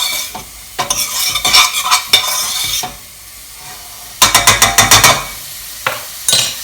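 Sliced leeks softening in butter in a pan sizzle while a utensil stirs them in quick scraping bursts, with brief quieter gaps between rounds of stirring.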